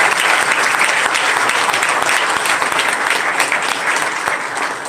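An audience at a school event in Chhatarpur breaks into loud, sustained applause for a mother, a dense wash of clapping that lasts about five seconds and fades slightly at the end.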